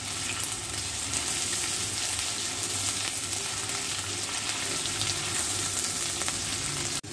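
Crushed garlic and ginger frying in a pan for a daal chana dish, a steady, close, dense sizzle that runs unbroken for about seven seconds with no talking.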